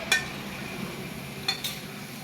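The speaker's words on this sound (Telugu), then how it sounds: "ముందుగా గ్యాస్ మీద కడాయి పెట్టి" A metal kadai set down on a gas stove gives a few light metallic clinks, one early and a pair about a second and a half later, against a quiet kitchen background.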